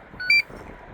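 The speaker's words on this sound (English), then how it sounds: "Then you'll hear all the beeps." A Losi ProMoto RC dirt bike remote control gives a short run of high electronic beeps as it is switched on, brief and clear over faint background.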